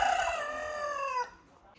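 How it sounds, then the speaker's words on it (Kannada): A single close crow from a fighting cock, loud and strained at the start, then a drawn-out call that trails off after about a second into quiet background. "ಇಲ್ಲೊಂದು ಕೋಳಿ ಇದೆ."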